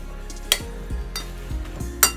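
Spoon stirring chicken pieces coated in spices in a kefir marinade, with a few sharp clinks against the bowl and soft wet sloshing between them, close up and alone.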